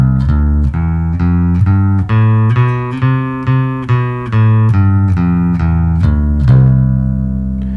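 Bass guitar plays a one-octave major scale starting on middle C, plucking single notes evenly up and then back down, loud and close with no talking.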